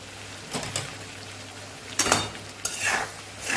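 A spoon stirs and scrapes spices into vegetables in a pan in a few short bursts, with a soft steady sizzle underneath.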